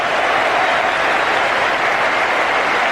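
A cricket crowd at an Ashes Test between Australia and England roars and applauds a boundary, a dense, loud, steady wash of cheering and clapping throughout.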